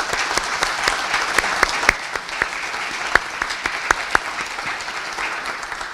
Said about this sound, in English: Please join me in a round of applause for their generosity and commitment.